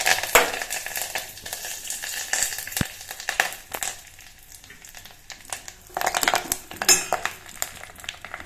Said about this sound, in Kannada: ಸಾಸಿವೆ ಎಲ್ಲ ಸಿಡಿದ್ಮೇಲೆ ಒಂದೆರಡು ಮೆಣಸಿನ್ಕಾಯಿ ಹಾಕ್ತಾಯಿದ್ದೀನಿ ಒಗ್ಗರಣೆಗೆ.